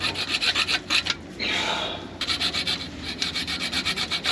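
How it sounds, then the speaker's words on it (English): Junior hacksaw cutting metal on a Fiat 875cc engine: quick rhythmic rasping strokes, close and fairly loud, broken by a longer drawn stroke midway, with no talking. "I'm still using a junior hacksaw."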